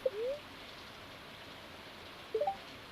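Steady, soft rain hiss from a rainy day on the farm in the video game Stardew Valley, with a few faint bird-like chirps at the start and near the end.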